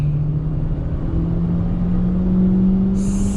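Hyundai i20 third-generation hatchback engine pulling steadily through the gears, a continuous low drone with a rising tonal whine that holds loud and close throughout, ending on a brief higher-pitched shift.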